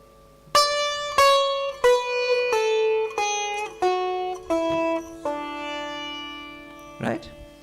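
Eight major-scale notes ring out one after another at an even pace, each struck cleanly with a bright harmonic tone that decays, stepping down in pitch, followed by a brief softer sound at the end.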